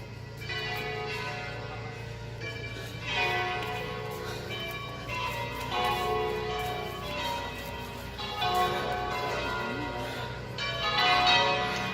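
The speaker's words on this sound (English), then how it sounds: "that is St. Margaret's of Antioch, where the bells are ringing" Church bells of St. Margaret of Antioch in the Cinque Terre village of Vernazza ring continuously in layered, sustained peals, swelling in waves and fairly loud throughout with no talk.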